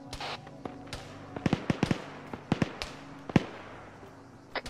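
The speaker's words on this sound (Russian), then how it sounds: "Смотри, с севера летят дымовые гранаты к нам." Smoke grenades fired from an underbarrel launcher in the military shooter ArmA 3 land nearby: a string of sharp pops and dull thuds at irregular intervals over a low background rumble, with no talking.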